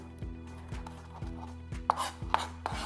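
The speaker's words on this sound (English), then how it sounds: "these mint leaves I'm actually gonna chop" A knife chops mint leaves on a cutting board in a steady rhythm of close, crisp thuds at about two strikes per second, with no voices.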